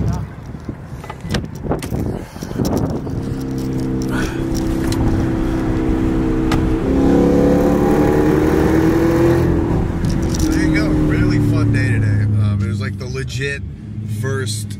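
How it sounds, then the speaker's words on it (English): A car revs hard during a tire burnout, a loud sustained engine roar that climbs and holds before tailing off, with people talking and shouting around it. "One more fat burnout on these tires."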